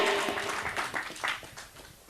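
Church congregation at a Nazarene service in Tomaycuri applauding God, scattered clapping fading out over about two seconds.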